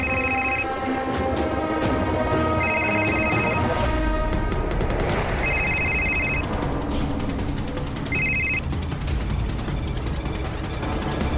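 Phone ringing during a police search for a man thought to be only about 30 metres away in a Crime Patrol crime drama, sounding as repeated electronic ring bursts under a dense, loud dramatic music and effects bed.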